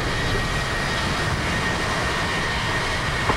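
Boeing 737 jet engines in the X-Plane 11 flight simulator, heard from outside during a climb in overcast conditions: a steady, loud, broadband roar with a faint whine, continuous throughout with no talk.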